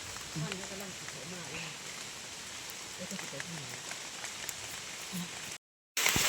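Steady rain falls outdoors during a mushroom-foraging outing, making a dense, even hiss throughout. A faint voice murmurs under it at times, and the sound briefly drops out near the end.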